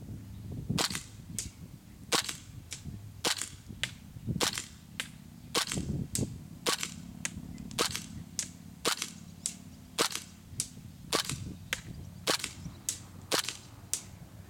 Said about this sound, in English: I did re-gas the gun, so it might shoot a couple astray the first couple shots